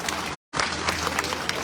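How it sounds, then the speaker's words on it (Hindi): Crowd applause at a Scheduled Caste Congress rally in Rajgarh, Churu: a dense wash of clapping broken by a brief dropout near the start, then continuing steadily. "वीरेंद्र जी के लिए भी जोरदार तालियां बजाएं।"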